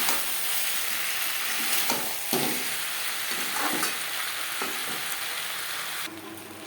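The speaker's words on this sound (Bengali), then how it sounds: "পটলের সাথে আলু বেশ ভালো করে মিক্স করে দেবো" Potato and pointed gourd sizzle loudly in a pan while a utensil scrapes and stirs them in irregular strokes, the frying continuing throughout.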